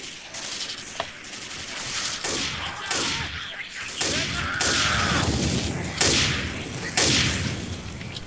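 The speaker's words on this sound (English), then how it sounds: "Pipe bomb." A pipe bomb and gunfire in the Left 4 Dead 2 video game: loud, dense bursts of rapid shots and sharp cracks with booming blasts, continuing without pause.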